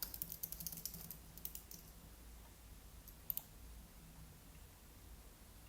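Quick bursts of computer keyboard typing, close and crisp, cluster in the first seconds, then thin to a few isolated key clicks against a quiet room.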